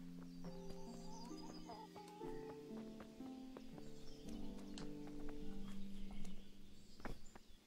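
Horse hooves clip-clop at a quiet, steady walking pace in the medieval video game Kingdom Come: Deliverance, with soft game music playing underneath.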